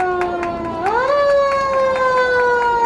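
A loud, close fire engine siren in a Memorial Day parade holds a tone, sweeps upward, then holds a higher wail, with rhythmic clicking pulses running through it.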